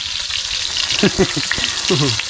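Eggplant frying in hot oil makes a bright, continuous sizzle, loud and close, with brief voices talking over it partway through.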